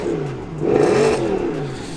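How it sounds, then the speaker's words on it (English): A Mercedes C63 AMG with a 6.2-litre naturally aspirated V8 gives a short, loud rev, rising from a deep idle burble to a throaty peak and settling back, heard close by. "The ground did just rattle when I revved up that engine."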